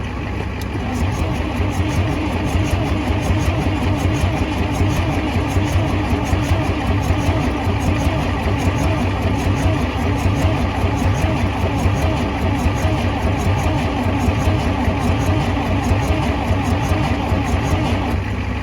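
The diesel engine of a seized International B414 tractor cranks over steadily at wide-open throttle with a continuous, loud mechanical churning that never catches, holding the same rhythm throughout.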